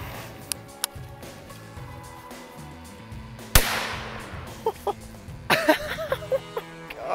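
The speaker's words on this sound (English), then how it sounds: "Okay, Exploder 2 versus Coke." An M-80 style firecracker explodes against a Coke bottle: one sharp bang midway, with scattered cracks and pops before and after it and some fizzing noise.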